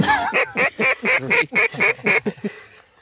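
A pair of ducks flying overhead during a waterfowl hunt quack in a rapid, evenly spaced series of about ten loud calls that tapers off at the end.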